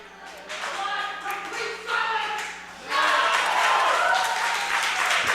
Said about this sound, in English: Gets a big round of applause out of it instead.